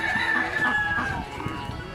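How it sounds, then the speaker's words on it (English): A rooster crows at a chicken market amid a dense, busy mix of clucking poultry, close and fairly loud. "So this is all the chicken they got."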